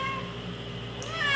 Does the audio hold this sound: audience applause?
no